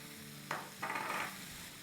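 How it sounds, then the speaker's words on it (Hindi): Chicken with crushed red chillies, black pepper and soy sauce sautéing in a pan on high heat, giving two short bursts of sizzling and stirring, close and fairly quiet, with no talk. "चले अब इसको हम बस ज़्यादा से ज़्यादा 1 मिनट सौटे करेंगे और निकाल लेंगे"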